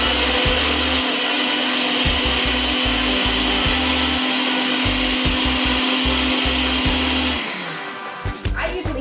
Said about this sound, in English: we put the blender here and let it go